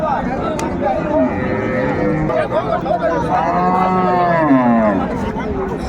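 Cows with calves moo loudly and repeatedly amid a busy crowd at Raniganj cattle market, long drawn-out lowing calls overlapping with background chatter.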